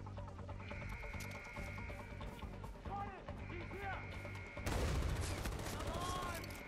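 Rapid gunfire rattles through a Far Cry 4 opium-field shootout in dense overlapping bursts, layered over steady game music and effects, then swells into a louder, harsher barrage toward the end.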